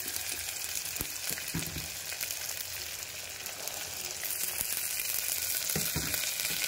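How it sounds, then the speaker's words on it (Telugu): Spices tempering in hot oil for a broad bean curry, a continuous loud hissing sizzle with occasional soft stirring knocks, steady throughout and without voices. "కొంచెం ఆయిల్ వేడైన తర్వాత దీనికి తిరగమాత వేసుకోమండి"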